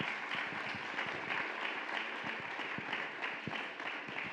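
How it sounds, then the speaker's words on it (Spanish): A church congregation applauds, a dense steady wash of many hands clapping at a moderate distance, continuous throughout. "Dale un fuerte aplauso al Señor."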